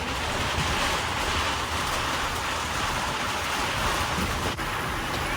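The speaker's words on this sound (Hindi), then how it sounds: "बारिश आई यार, और फिर बारिश बरसनी शुरू हो गई।" Heavy rain pours down steadily in a village, a dense, loud, continuous hiss close to the microphone with no voices over it.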